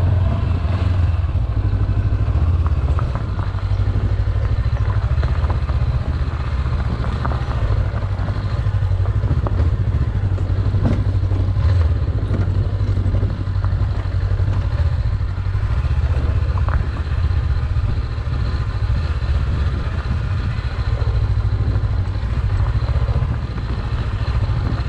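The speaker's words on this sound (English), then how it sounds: "let's take the bike down there." A motorcycle ridden down a track to a campsite in Snowdonia, its engine a steady close drone with rattling clatter over the whole stretch, no talk.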